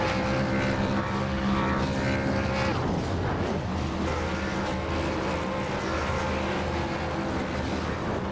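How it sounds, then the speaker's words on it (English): A race car in an iRacing ARCA night race revs in a sustained, droning engine roar during burnouts, the loud tone steady and slightly wavering with no talk. "And he'll get to do burnouts"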